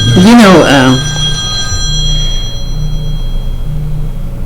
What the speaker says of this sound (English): it looks like my cell phone wants to interrupt us.